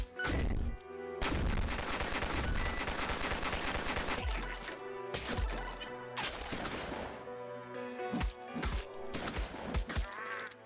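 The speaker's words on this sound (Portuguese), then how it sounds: "A metralhadora." Machine gun fire from Dead Ahead: Zombie Warfare, a zombie video game, comes in loud, dense rattling bursts, a long sustained one early, then shorter volleys broken by brief gaps, over game music.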